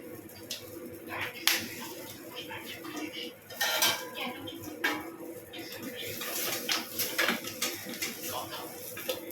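Fried fish heads being lifted out of a karahi bring repeated metallic clinks and scrapes of a utensil against the pan over a low background sizzle, close and irregular.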